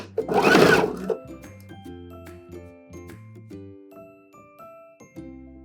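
A sewing machine stitches a seam on a dress being let out, with a loud whirring burst at the start, then stop-start stretches of rhythmic humming stitching with pauses for back stitching, close and clear.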